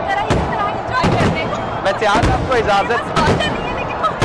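Fireworks burst repeatedly at Minar-e-Pakistan in Lahore during Pakistan's 76th Independence Day celebrations, a dense crackling and popping over a noisy crowd, with someone talking close by throughout.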